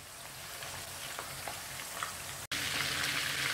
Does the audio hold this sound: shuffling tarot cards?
no